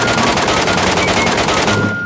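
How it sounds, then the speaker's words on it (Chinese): Rapid automatic gunfire in the shooter game Arena Breakout rattles out in dense, continuous bursts close up for about two seconds, loud and unbroken, with no talking. "还有枪声"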